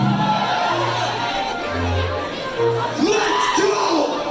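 A concert crowd whoops and cheers loudly at an internet-music show, with overlapping shouts and voices over a busy, crowded background.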